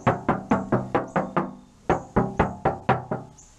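Knuckles rap an untreated BMW Z4 car door panel, about fourteen hollow, ringing knocks in two quick runs with a short pause between, loud and close with no talk.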